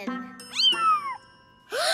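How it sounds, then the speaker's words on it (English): Cartoon kitten gives a bright, rising-and-falling meow that stretches about half a second, then a second shorter mew at the end, close and clear with no talking. "Kitten!"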